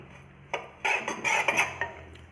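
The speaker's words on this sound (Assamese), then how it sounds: "অ'টছখিনি মই এতিয়া মিডিয়াম ফ্লেমত ভাজি ল'ম" Oats dry-roasting in a pan over a medium flame, with a utensil clinking and scraping against the metal in a few short bursts over a low, steady background.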